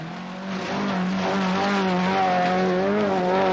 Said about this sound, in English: Car 1 accelerates through the mud and signals the start of competition